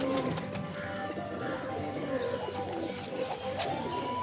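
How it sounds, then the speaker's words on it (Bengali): A female Madras pigeon gives soft cooing calls close by against a busy, noisy background, with faint talk in the room. "ছেড়ে তোমাদের দেখিয়ে দিচ্ছি পায়রাটা।"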